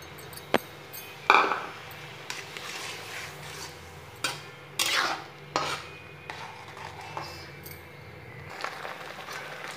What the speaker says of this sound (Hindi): थोड़ा थोड़ा करके सूजी डालेंगे और इसे चलाएंगे।